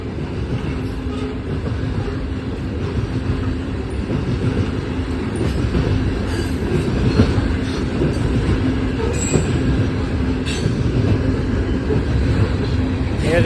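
A freight train with a DPU locomotive rolls through a town street in Tullahoma, Tennessee, a continuous loud rumble of wheels with squealing and clicking rail joints, passing close by throughout.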